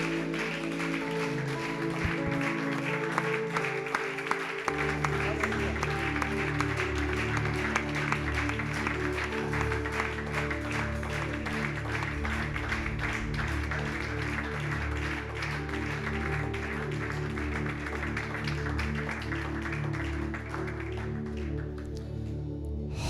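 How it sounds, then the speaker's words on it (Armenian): Church congregation applauding during a worship service, steady dense clapping that runs the whole way under sustained organ-like music and singing, full and close. "Եկեք զորավոր ծափարենք մեր Աստծո"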